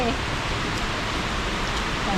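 Steady rain falls in a dense, even hiss throughout, continuous and fairly close, with brief faint voices in the background.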